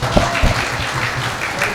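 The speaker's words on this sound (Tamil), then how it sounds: "அந்த லவ் அண்ட் அந்த எனர்ஜி கொடுத்த உங்களுக்கு ஒரு பெரிய கைத்தட்டல் எங்க சார்பில் நாங்க கொடுத்துடுறோம்." An audience claps loudly and densely at a lively stage event, a continuous burst of applause heard up close.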